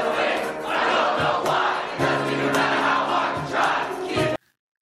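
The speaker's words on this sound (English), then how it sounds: "Imagine writing a song so iconic you just walk into a train station and start playing and the crowd knows the whole song." A large crowd sings along in a train station, a loud, dense mass of voices that carries throughout before cutting off abruptly near the end.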